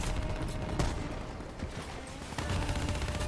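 Gunfire in the video game Black Ops 3, dense bursts of rapid shots forming a continuous loud barrage with brief pauses, alone without talk.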